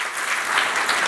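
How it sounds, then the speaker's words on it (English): A workshop audience at a car dealer event in Naarden gives a short burst of warm applause, dense and fairly loud, heard for about a second. "give him a warm applause"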